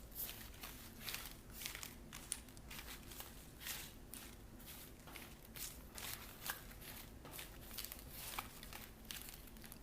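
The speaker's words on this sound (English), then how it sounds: "And then I'm going to shuffle." Soft, rapid riffling and slapping of tarot cards being shuffled repeatedly, a continuous rhythmic flutter at close range and low volume.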